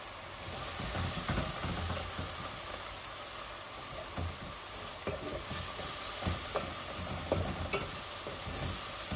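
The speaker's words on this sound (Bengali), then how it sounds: "একটু করে ফেলেছি, তেলের মধ্যে ভাজছি।" Chicken pieces fry in hot oil for a bhuna curry, with a continuous loud sizzle broken by the clatter and scrape of stirring throughout.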